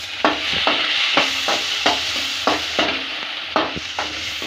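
A spoon scrapes through potatoes in a sizzling pan in a steady rhythm of about two strokes per second, close and fairly loud, with no talking.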